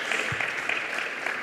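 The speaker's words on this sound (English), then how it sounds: "Another round of applause for them, please." Brief, steady round of audience applause at a health and wellness tourism conference, clapping for panel speakers as a session ends.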